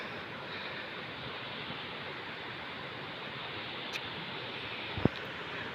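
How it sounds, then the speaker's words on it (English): A small mountain waterfall on a day hike in Bagrot Valley, Gilgit Baltistan, roaring as a steady broadband rush of falling water with a faint click near the end. "And there's another waterfall,"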